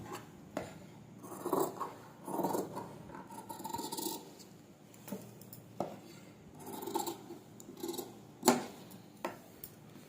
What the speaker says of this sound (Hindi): अब हम इस पर एक पैर जितना कपड़ा छोड़कर और बाकी कपड़े की कटिंग कर देंगे।